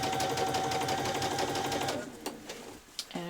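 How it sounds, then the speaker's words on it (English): Sewing machine stitching a child's dress runs continuously for about two seconds, then stops and is followed by a few light clicks and handling sounds. "I'll just do a second row of stitching along there"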